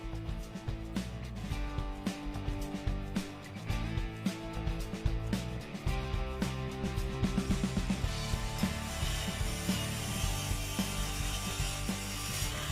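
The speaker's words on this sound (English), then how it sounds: "Let's take a look at how the Lumber Lock works." A Lumber Lock vise is worked by hand, giving rapid ratcheting clicks and mechanical clacks in uneven bursts, close and fairly loud, over a faint musical background.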